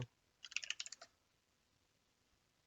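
A brief quick flurry of key presses on a computer keyboard, about ten light clicks in under a second, followed by quiet and one last tap, close and faint.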